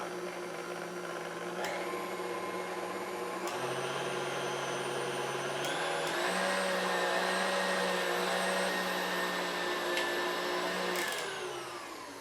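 An electric mixer running on high whips cloud bread mix in a bowl, a loud steady motor whine with small shifts in pitch as the beaters move, continuous and close for the whole stretch.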